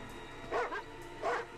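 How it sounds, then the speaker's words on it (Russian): Dogs bark twice out in the distance, two short muffled barks spaced under a second apart over a quiet background. "Почему лают собаки, Вурф?"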